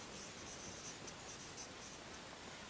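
Pen writing by hand on paper, a faint scratchy stroke sound with soft rustling, quiet and continuous with no talking.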